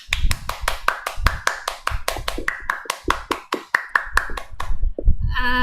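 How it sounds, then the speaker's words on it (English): Club members at a meeting clap for the club's past president, a sparse run of distinct, close hand claps in an uneven rhythm, a few hands only, ending with a short tonal ping. "all of you can give a round of applause"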